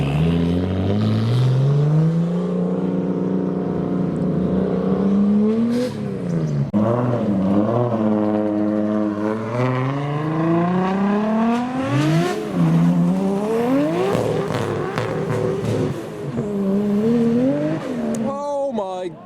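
A slammed Nissan Skyline R34 revs hard while leaving a car show, the engine note climbing and falling in repeated loud sweeps, close to the microphone, with outdoor crowd noise around it.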